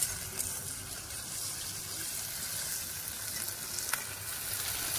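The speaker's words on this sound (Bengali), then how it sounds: "এবার পেঁয়াজ আদা রসুন বেটে রেখেছিলাম সেইগুলো দিয়ে দিচ্ছি।" Ground onion, ginger and garlic paste frying in hot oil for a koi fish dish, a continuous soft sizzle with faint stirring, while heavy rain falls in the background.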